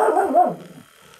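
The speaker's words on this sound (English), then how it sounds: "Squidge, where the fuck are you barking at Alana?" A dog gives one short, loud bark that tails off quickly, close by.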